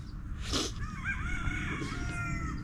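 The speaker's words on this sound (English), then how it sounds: "these roosters, if you hear them, they went at it pretty early." A rooster crows clearly nearby, a long wavering call over a low rumbling background, with another faint crow starting toward the end.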